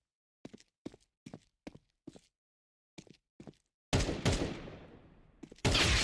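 Gunfire in a competitive shooter video game match: a run of crisp, evenly spaced single shots, followed by heavier booming blasts with long ringing decay.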